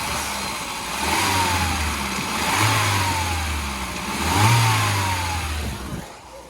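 Peugeot RCZ 2+2 coupe diesel engine revving in three rising and falling surges over a steady idle, with a slight rattle, close and fairly loud.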